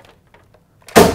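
A staple gun fires into house wrap over a king and trimmer stud at a window opening during installation, one sharp, loud snap at the end after a near-silent stretch of faint handling noises.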